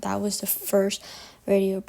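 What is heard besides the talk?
No distinct noise like a dog, phone or traffic.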